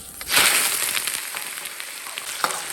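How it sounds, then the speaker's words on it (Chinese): Rock sugar caramelizing over a small flame in a pan for braised pork, a close, continuous crackling sizzle with scattered popping bursts and faint scraping stirs, no talking. "把冰糖下进去，開花火，好，火小一點，火太大不好控制，爆開"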